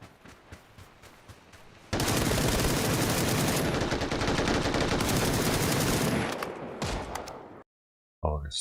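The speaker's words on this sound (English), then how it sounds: "What was he even shooting at?" Loud sustained gunfire, a dense roaring burst of automatic shooting lasting several seconds, preceded by quieter scattered shots, then cutting to silence before a short final burst.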